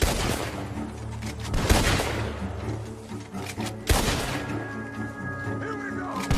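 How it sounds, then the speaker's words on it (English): Gunfire from inside a barn in Red Dead Redemption 2, a dense barrage of loud, overlapping shots and booms with rumbling impacts, continuing steadily and spiking sharply twice. "The gunshots are coming from that barn!"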